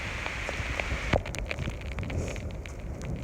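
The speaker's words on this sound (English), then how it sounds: "It's sprinkling right now." Light rain sprinkles steadily on a muddy Appalachian Trail hiking path in cold weather, making a soft, even patter with a few closer drops standing out from the rest.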